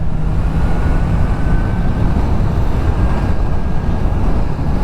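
A Kawasaki Z900 motorcycle in A2-restricted form accelerates in sport mode, its engine a loud, continuous roar heavily mixed with wind buffeting across the microphone, no speech.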